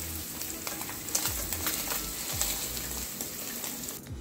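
Paneer sizzles in oil in a pan, a soft continuous crackle with occasional stirring scrapes and light clatter throughout.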